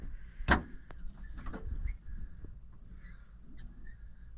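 A door in a farm setting shuts with one sharp bang near the start, followed by faint shuffling and low background noise, with no talking.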